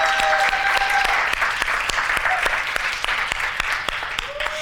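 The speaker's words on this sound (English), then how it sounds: "can we give him a warm round of applause?" An audience at a holiday magic closing ceremony claps in sustained, dense applause, a bright wash of many hands that stays loud and even throughout, with faint tonal sounds drifting underneath.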